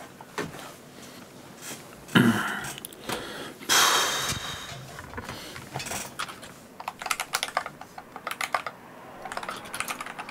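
Fingers type on a computer keyboard during a relaxed racing game session at Zolder, irregular bursts of clattering keystrokes with a few heavier thumps, close up.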